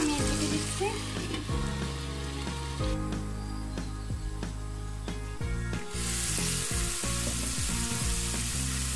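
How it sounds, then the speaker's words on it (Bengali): Yardlong beans sautéing over medium heat make a steady close sizzle with repeated scraping stirs of a spatula against the pan, and a faint continuous hum runs underneath. "চুলার আঁচটা মিডিয়ামে রেখে আমি কষিয়ে নিচ্ছি"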